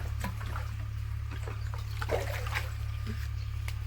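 Water trickles and splashes into a bucket on a farm, soft and intermittent over a steady low hum, with faint sounds of activity nearby.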